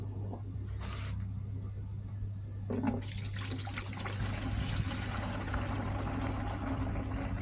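Oily water pours and splashes steadily while a garage tidy-up is underway, a continuous close rushing flow over a low rumbling hum, with no talk.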